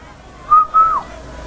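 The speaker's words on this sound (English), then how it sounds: "I will whistle." A person whistles two short clear notes, the second longer and sliding down at the end, loud and close.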